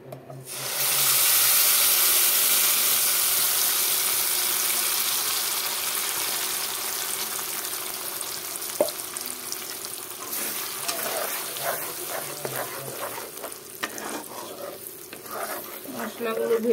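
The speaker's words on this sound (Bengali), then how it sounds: "মশলাগুলো এখন ভেজে নেব পুরের জন্য। কড়াইতে তেল দিয়ে দিলাম।" Spices for a stuffed spiny gourd filling fry in hot oil in a wok: a loud, dense sizzle bursts up early, then settles into a softer continuous crackle broken by clinks and scrapes of stirring.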